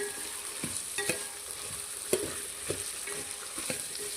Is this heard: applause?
no